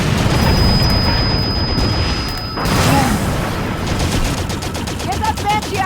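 Dense gunfire in Halo 5 Guardians pours onto a Covenant Wraith: loud rapid bursts of shots and booming impacts, with a short lull near the middle before the shooting resumes.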